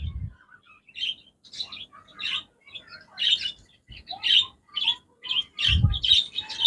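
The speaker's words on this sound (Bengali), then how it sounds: "সব পাখিগুলো যখন গোসল করতেছে এখন এখন ডাকতেছে" Several budgerigars chirp and tweet in quick, bright bursts while bathing in a bowl of water, with a few low thumps between calls, close by and moderately loud.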